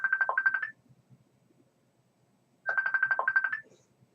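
A phone ringtone plays two short melodic bursts separated by a pause of about two seconds, fairly quiet and clear in an otherwise silent room, with no talking.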